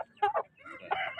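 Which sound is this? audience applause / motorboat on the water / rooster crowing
rooster crowing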